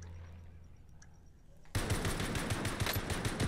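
In a video game, rapid automatic gunfire erupts suddenly after a quiet stretch and carries on as a loud, dense, continuous burst to the end.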